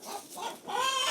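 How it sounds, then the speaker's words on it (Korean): Hens clucking at a rural farm in Hongcheon, Gangwon, a short run of close, repeated clucks and chattering calls that rise toward the end, with no talk. "고마움을 아는 건지 매일 아침 싱싱한 달걀을 생산해내는 암탉들"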